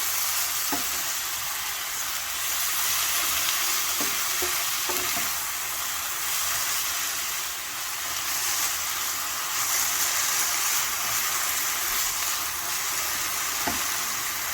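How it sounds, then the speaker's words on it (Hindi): About 500 grams of chicken mince fries steadily in a pan, a continuous close sizzle with occasional soft scrapes and taps of a spatula. "तो इसको भी अच्छी तरह से फ्राई कर लेंगे इसके साथ ही।"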